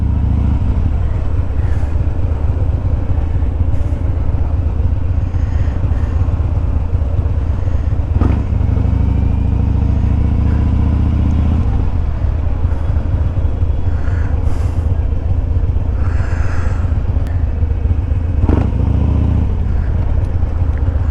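Motorcycle carrying riders along a coastal road near a festival area, its steady engine rumble continuous and close throughout with wind noise, shifting in pitch and load as it rolls and slows.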